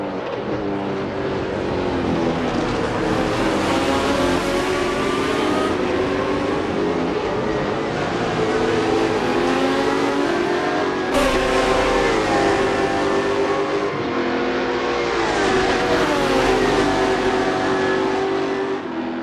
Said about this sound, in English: So now I think the GT Pack cars can pass the V8 Supercar